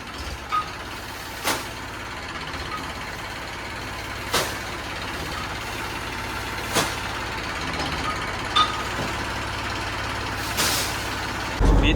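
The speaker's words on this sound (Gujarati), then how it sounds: "આ ટ્રેક્ટરનો સંભળાય છે, હમણાં થોડીક વારમાં બંધ થઈ જાય." A tractor engine runs steadily nearby while sugarcane is unloaded, a low continuous rumble broken every couple of seconds by short, sharp hissing or clanking bursts.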